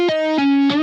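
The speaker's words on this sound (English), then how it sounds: "After adding distortion, my lead ended up sounding a bit like this." A distorted synth guitar lead plays three sustained notes with a pitch drop between them, loud, buzzy and harmonically rich, heard alone without any talk.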